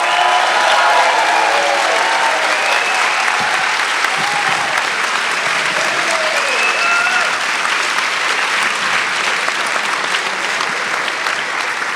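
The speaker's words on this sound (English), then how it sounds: "Please, everyone, give a big round of applause to Naomi Klein." A large crowd gives loud, sustained applause for Naomi Klein at #TWT2018, a dense even roar of many hands with faint cheers mixed in, continuous throughout.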